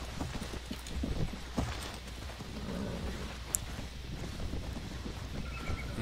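Horses' hooves clop in the video game Mount & Blade Warband, a loose, uneven patter of hoofbeats at moderate distance over a faint background hiss, with no voices.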